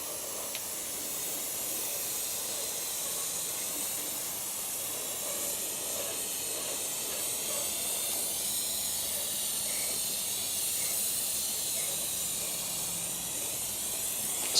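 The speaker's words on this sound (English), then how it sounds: "just gonna go to town with a little brake clean for right now. Spray down the main bearings," Brake cleaner sprayed in a steady continuous hiss over a bare 2JZ engine block, main bearings and cylinders during crankshaft removal, close and loud throughout with no talking.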